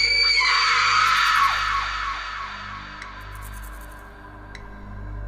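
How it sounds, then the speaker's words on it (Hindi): Screams echo through a hall in a horror story, with a loud shrill cry at the start that fades into a long echoing tail over a low droning background. No talking. "धुएं के साथ ही पूरे हॉल में चीखें गूंजने लगी"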